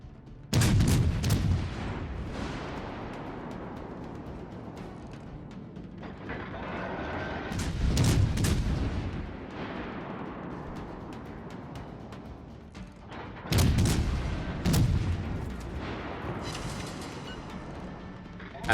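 Cruiser turrets firing in World of Warships Legends, three heavy booming salvos spaced several seconds apart, each with a loud roaring blast that decays slowly into a rumbling tail.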